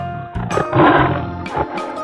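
A tiger roars in a 3D animal slide game, a loud, rough growl swelling near the middle of two seconds, with a second burst toward the end over game sounds.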